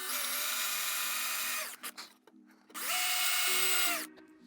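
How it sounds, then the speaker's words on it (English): A power drill bores into a wooden yoga stool in two long, loud whining bursts. The motor pitch sags under load, with brief stops and rattling handling noise between the bursts, and no talk. "with this baby you don't want to drill too far down"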